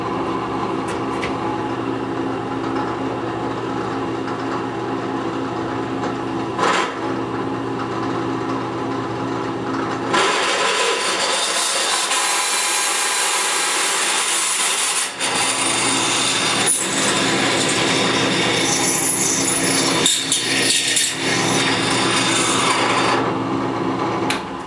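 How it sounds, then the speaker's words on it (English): A hand reamer is turned through a tube for a ProMaxx 200 Stage IV installation, producing a continuous rasping, scraping grind that grows louder and harsher partway through and carries on close up. "Let's go ahead right now and turn the reamer through."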